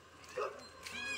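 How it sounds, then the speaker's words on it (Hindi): A dog barks and yips in a village garden, a couple of short faint calls at a distance over a low background hum, with no talk. "यार डॉगी और भूस रहा है"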